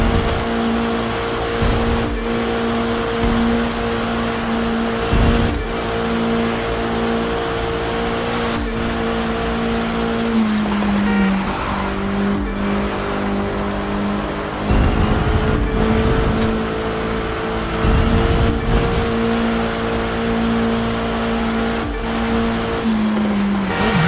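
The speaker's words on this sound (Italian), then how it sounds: "Adesso sono coperti dal rombo di motori." Race cars in The Crew 2 video game roar through a small town in stormy weather. A loud, continuous engine drone shifts pitch as the cars rev and change gear, with whooshing surges like wind or surf, and nobody talks.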